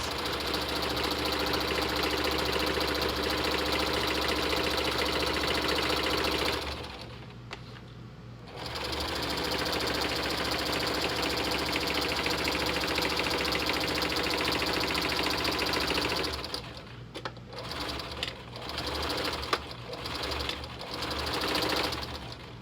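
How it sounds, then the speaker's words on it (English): A sewing machine runs zigzag stitching along a seam of a clown-style Lolita dress, a steady close whir that pauses briefly, resumes, then ends in short stop-start bursts, with no talking. "I am using a zigzag stitch for this"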